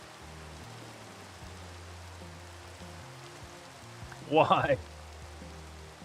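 Steady soft rain falls in the Minecraft video game, a faint, even hiss that continues while a voice briefly speaks near the end.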